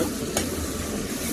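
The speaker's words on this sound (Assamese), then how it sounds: "এইখিনি কচুলতাখিনি ভাজিছোঁ" Colocasia stems frying in a pan give a steady close sizzle with stirring noise and one brief brighter scrape partway through, and no voices.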